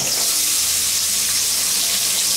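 Chopped onion and peeled local garlic frying in oil in a wok, a steady, loud, close hiss that holds unbroken throughout.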